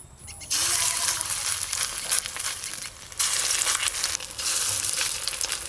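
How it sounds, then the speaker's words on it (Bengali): Small shrimp fritters (bora) frying in hot oil, a loud dense crackling sizzle that starts abruptly, dips briefly in the middle, then surges again and continues to the end. "বড়ার সাইজটা আপনারা আপনাদের পছন্দ মতো করতে পারেন, আমি মিডিয়াম সাইজের করে ভেজে নেব।"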